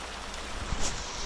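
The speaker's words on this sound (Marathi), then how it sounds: "पाऊस पडायला लागलेला आहे" Steady rain hisses evenly as a broad wash of noise, with a few soft drips and thuds close by.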